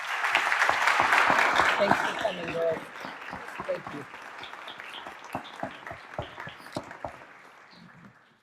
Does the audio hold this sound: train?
no